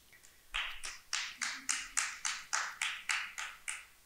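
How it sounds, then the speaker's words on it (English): Sparse clapping in an auditorium at a candidate forum, about a dozen evenly spaced single claps, fairly close and distinct, with near silence between them. "We have some clapping in the auditorium"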